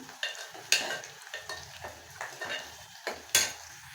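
Tomato frying in oil for a pumpkin palya, soft sizzling under sharp spatula scrapes and clinks against the pan, a handful of distinct stirring strokes close by, no voices.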